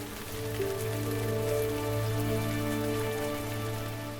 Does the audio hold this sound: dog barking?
no